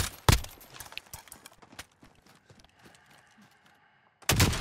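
Gunfire in the Warzone video game: a loud shot near the start, a scatter of quieter clicks and impacts, then another heavy burst of fire at the end.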